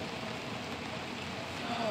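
Steady rain falls outside near a road, a continuous even hiss that stays constant and fairly loud from start to finish.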